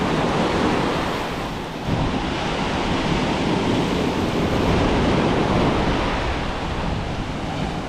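Rough surf pounds a beach under strong wind, a steady loud roar of breaking waves with wind buffeting the microphone throughout and no talking.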